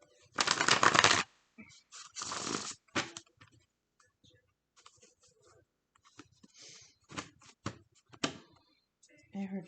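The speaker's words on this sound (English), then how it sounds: "I heard 4 shuffles and a cut." Deck of tarot-style love quote cards being shuffled by hand, four riffling bursts followed by a cut, close and fairly loud, with softer handling rustles between them.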